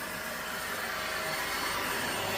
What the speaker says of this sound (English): There we go, vacuum cleaner.